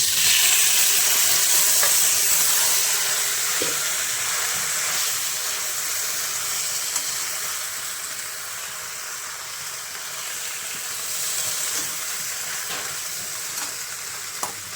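Pasta frying in hot oil, a strong steady hiss of sizzling that eases slightly midway, with a few faint stirring taps, close and without voices.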